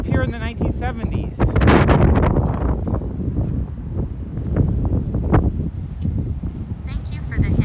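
Strong gusts buffet an outdoor microphone on a walk through Williamsburg, Brooklyn, giving loud rumbling bursts that rise and fall, with a person talking through much of it.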